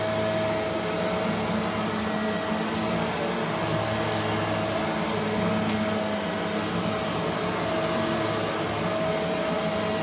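A Bissell MultiClean Allergen Lift-Off Pet upright vacuum running, a steady loud motor whine and airflow roar with a constant tonal hum, unbroken throughout.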